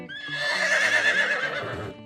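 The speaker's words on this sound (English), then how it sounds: "Horse experts, though, call it a whinny." A horse whinnies, also called a neigh: one loud, shrill, wavering call about two seconds long with a tremulous pitch. It stands alone with no talking.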